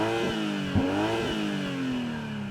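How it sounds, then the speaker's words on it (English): A BMW M340i engine is revved while stationary: a steady idle-like drone with two quick climbs in pitch, then a slowly falling note, loud and close with no talk. "Oh, it lets you rev all the way up to the red line"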